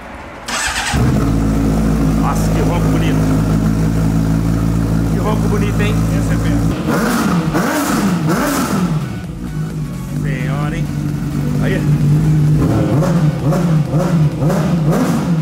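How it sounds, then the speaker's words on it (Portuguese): A Honda Hornet motorcycle with an aftermarket exhaust starts up loud and close, idles with a deep steady burble, then revs in several sharp climbing bursts while someone talks nearby. "vamos ver o jeito que tá roncando essa horneteira aqui"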